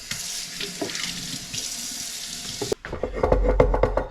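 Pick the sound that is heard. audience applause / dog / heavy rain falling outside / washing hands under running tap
washing hands under running tap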